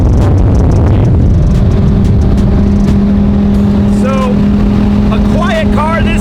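Ride inside a Lamborghini Uber, a loud low engine drone and hum filling the cabin while people talk over it.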